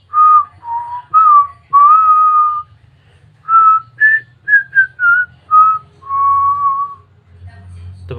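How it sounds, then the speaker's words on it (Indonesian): Melodic human whistling, clear and close, a lively tune of short bright notes and a few held tones with brief pauses between phrases, heard alone without any talking. "Contohnya siul,"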